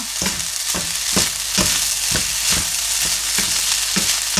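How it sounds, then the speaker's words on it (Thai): Chinese sausage fried rice stir-fried in a hot pan: a steady sizzle runs throughout, broken by regular spatula scrapes roughly every half second, close and fairly loud with no voices. "แล้วก็ผัดให้เข้ากันค่ะ"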